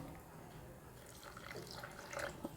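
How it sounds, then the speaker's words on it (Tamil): A little water poured into rava kara kuzhi paniyaram batter, a soft trickling splash building toward the end, close and fairly quiet. "கொஞ்சம் தண்ணி ஊற்றிக்கலாம்"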